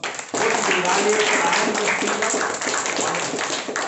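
Sustained audience applause at a speakers forum, a dense, steady wash of many hands clapping that starts abruptly and continues throughout, with voices mixed in.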